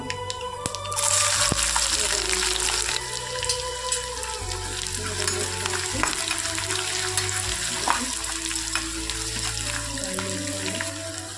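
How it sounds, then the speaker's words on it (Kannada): Cumin and mustard seeds frying in a pan with split black lentils, a continuous close crackling sizzle with faint pops and scattered clinks throughout. "ಇದಕ್ಕೆ ಸ್ವಲ್ಪ ಜೀರಿಗೆ, ಸ್ವಲ್ಪ ಸಾಸಿವೆ, ಅದನ್ನು ಕೂಡ ಫ್ರೈ ಮಾಡ್ಕೊಳ್ಳೋಣ."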